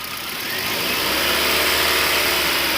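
The 1.6 engine of a Hyundai Verna, being checked for an alternator fault, is revved and swells into a loud, close, steady roar.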